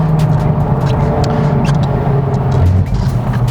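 A 2023 Honda Civic Type R FL5 on a race track, heard as a loud, sustained engine drone from inside the car with steady pulling power through the mid-range and brief noise bursts over the top.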